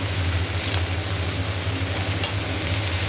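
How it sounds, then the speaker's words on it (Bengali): Vegetables with a nigella seed tempering and green chilli fry in a pan, producing a dense, continuous close sizzle with a low steady hum underneath. "কালো জিরে ফোড়ন দিয়ে সব দিয়ে দিয়েছি, সবজি কাঁচা লঙ্কা দিয়ে করবো"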